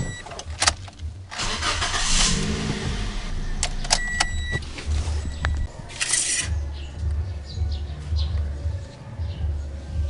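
A Toyota Vios with 40,000 km on it is started during routine maintenance, its engine catching and settling into a steady low idle amid faint clicks and jangles, with no talk.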